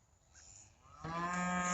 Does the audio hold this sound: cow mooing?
yes